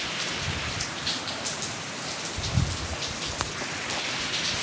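Steady morning rain falls on a surface in Batwa, a dense, even hiss of drops with a few slightly louder patters, continuous throughout and no voices.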